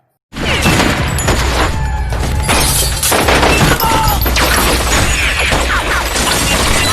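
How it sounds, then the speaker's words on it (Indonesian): A loud shootout scene from the action film Debt Collector 2, with dense bursts of gunfire, crashes and shattering glass. It starts abruptly after a brief silence and continues intensely, with no talk. "Yang kemudian terjadi aksi saling tembak-menembak antara mereka."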